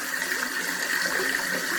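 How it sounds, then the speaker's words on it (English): Water trickling and splashing steadily down a small model waterfall in a junkyard diorama, a close, continuous rushing hiss with no voices. "You can hear the water running. That's kind of a neat sound to hear the water running down here."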